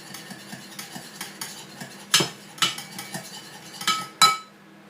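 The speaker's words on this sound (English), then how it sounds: "Mix them together slightly." Honey and nectar stirred together in a bowl, with a utensil clinking and scraping in a steady series of small taps, then several louder knocks near the end, close up with no talking.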